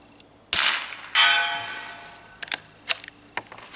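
A 9mm bolt-action rifle takes subsonic cartridges loaded one at a time: a few bright metallic clicks and clacks, two louder sliding-bolt strokes, then lighter taps and rattles, close and without talk.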